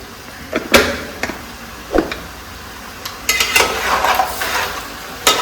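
A spoon scraping and clinking in a pan as homemade red chili powder and turmeric masala are stirred in, with irregular close taps and scrapes over a faint sizzle and no talking.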